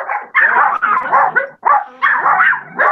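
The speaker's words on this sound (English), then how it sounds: "he brought his big dog" A big dog barks loudly and close by indoors in a run of rapid bursts, some yipping and whiny, separated by brief pauses.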